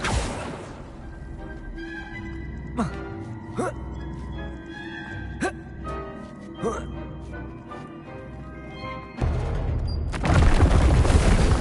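Video game Depulso and Accio spell effects: sharp whooshing bursts and crackles over a steady musical backdrop, ending in a loud, noisy burst near the end.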